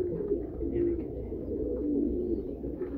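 Pigeons from a Karachi breeder's loft coo in a low continuous murmur, several birds close together, with no clear break across the short stretch.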